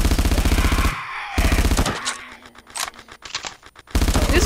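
A gun firing in a video game, a basic weapon that burns through its ammo fast: dense bursts of rapid automatic shots at the start and end, with a busier, quieter stretch of game sounds between.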